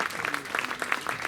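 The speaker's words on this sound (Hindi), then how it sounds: "एक बार हाथ उठा के सौरभ भाई के लिए तालियां बजाएं जोरदार" A short burst of audience clapping for a poet at a Hindi comic poetry gathering in Chakradharpur, with individual claps standing out in an uneven, fairly close patter.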